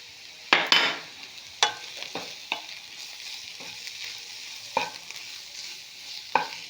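Ground spice powder fries in a pot of chicken stew base, a soft steady sizzle broken by sharp scrapes and clinks of a spoon stirring at irregular intervals, heard close with no talking.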